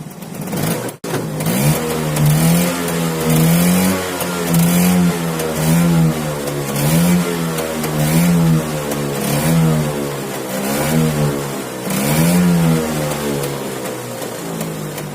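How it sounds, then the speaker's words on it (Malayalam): A Bajaj petrol autorickshaw engine cold starts after a brief catch near the start, then runs loud and close with steady harmonic drone and repeated rhythmic revving swells throughout. "ഇനി സ്റ്റാർട്ട് ചെയ്തു."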